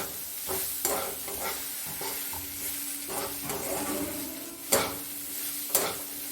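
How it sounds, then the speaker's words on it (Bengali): Vegetables and thin-sliced capsicum sizzle steadily in a hot pan for street-style veg chow mein made without onion or garlic, with close stirring scrapes and a few sharp spatula clacks against the pan. "সবজিগুলো ভাজা হচ্ছে, এবার ওর মধ্যে ক্যাপসিকামটা দিয়ে দিলাম।"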